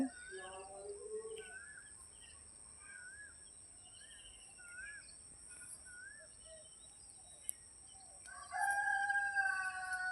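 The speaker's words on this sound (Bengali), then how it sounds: "মোরগ ডাকছে।" A rooster crows at dawn near a still river, its long harmonic call rising loud and close near the end, after softer bird calls and a steady high hiss in the quiet morning air.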